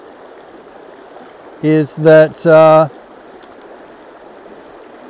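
Steady broadband rush of a flowing river, continuous and moderately close, with a short burst of human speech partway through.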